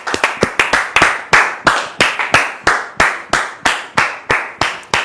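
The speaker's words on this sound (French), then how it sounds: "Sous vos applaudissements." A studio audience welcomes a visitor onto a talk show set with steady, rhythmic clapping: about twenty sharp, evenly spaced claps in near unison, close and loud, with no talking.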